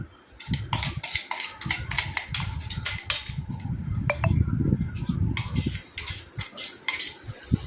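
Powder is poured from a mixer jar into a small airtight container, making light scraping and clinking taps with soft sliding rustles throughout.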